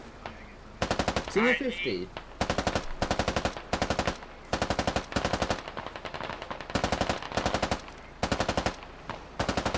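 Machine gun fire rattles in long rapid bursts during a Squad Ops battle, loud and close, repeating in regular volleys separated by short gaps, with brief radio-like chatter heard under the shooting near the start.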